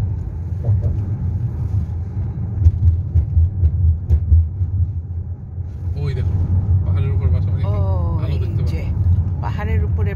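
Low, steady traffic rumble fills a dusky San Francisco street in a hilly residential area, with passing vehicles droning close by and people talking over it in the second half.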